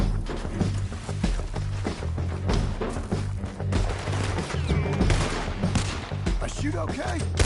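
Gunfire in Red Dead Redemption 2 crackles as a dense, rapid fusillade of shots over a low rumbling game soundtrack, loud and continuous throughout, with a voice speaking over it.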